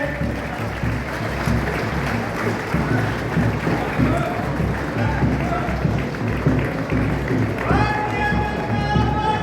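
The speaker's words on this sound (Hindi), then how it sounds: "माननीय मुख्यमंत्री जी एक बार जोरदार तालियां।" Large crowd at a BJP political rally applauds the chief minister, loud sustained clapping filling the whole stretch, with an amplified voice and crowd noise mixed in.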